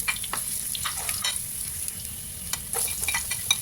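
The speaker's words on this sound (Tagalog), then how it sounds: "syempre magigisa muna tayo ng bawang," Garlic, onion and ginger sauté in a hot pan, a steady close sizzle with scraping stir strokes and small clinks of a utensil throughout, no voices.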